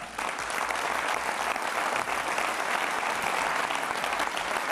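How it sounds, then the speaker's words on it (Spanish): Sustained applause from a large crowd, dense and steady clapping filling the whole moment. "Una mención que ha recibido la ovación unánime de la militancia."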